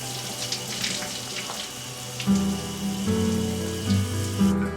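Water running steadily from a shower, a continuous splashing hiss with some tonal hum joining partway through.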